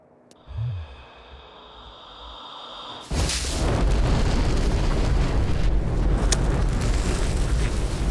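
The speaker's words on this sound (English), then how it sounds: "we were just standing right outside the radius of that explosion" An explosion in the horror video game MOLE: after a quiet stretch with a faint low thud, a sudden loud blast erupts and settles into a sustained roaring rumble and crackle that holds to the end.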